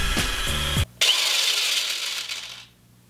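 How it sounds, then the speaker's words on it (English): A drill fitted with a folded clothes hanger whirring at high speed as it mixes watermelon flesh into a drink, a harsh, loud buzzing that cuts out briefly, restarts, then winds down. "you could always use a drill with a folded clothes hanger attached to it. Really fast like this."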